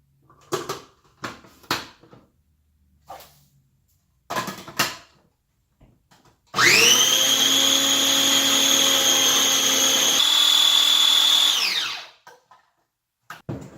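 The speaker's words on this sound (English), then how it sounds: "we're going to puree the heck out of it" A kitchen blender purees taco marinade ingredients for Mexican street tacos in one loud, steady whir of about five seconds, with a pitch shift near the end before it cuts off, following scattered clunks and handling knocks.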